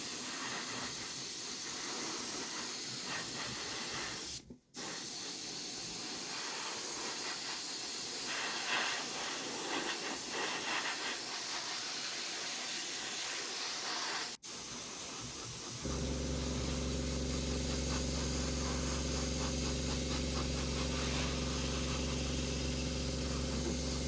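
An airbrush spraying Vallejo Model Air Desert Tan paint onto a small Meng Spice Harvester model gives a continuous close hiss with two brief cutoffs, then a steady hum joins in near the end.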